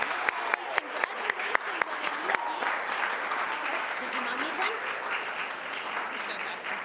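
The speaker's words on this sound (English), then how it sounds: "Let us bless all of these folks with a round of applause on their new adventures" A church congregation applauds during a Unitarian service, steady moderate clapping with a few sharp, prominent claps up front, while a voice talks faintly underneath as the applause continues.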